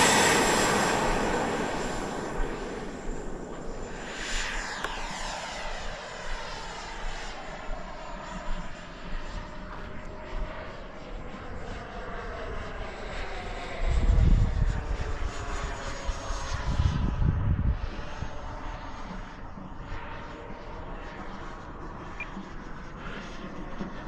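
T-7A model airplane takes off and flies past, its engine whine sweeping up and down in pitch as it passes near and then moves farther away, with a couple of louder low rumbles midway.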